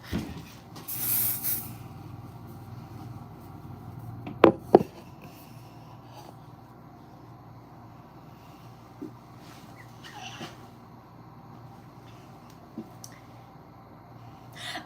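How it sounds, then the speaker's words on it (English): A short hiss of hairspray from an aerosol can bursts out near the start, then gives way to quiet room sound with a couple of sharp knocks. "you can have some hairspray too"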